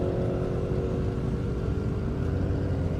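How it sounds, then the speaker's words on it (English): Drag racing Mustang with a Whipple supercharger accelerating down an airport airstrip, a distant, continuous engine drone with steady rumble heard from about a half mile away, no voices. "Has a Whipple type supercharger. I can hear that all the way over here"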